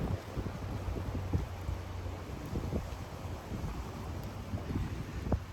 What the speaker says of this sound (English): Yeah, the wind